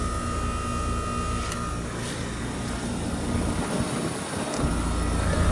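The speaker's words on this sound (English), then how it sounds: "And there's the fan motor." Outdoor fan motor on a 2011 three-ton Trane XR15 heat pump running in heat mode, a loud, continuous whir and rumble layered over the compressor's drone, holding steady throughout.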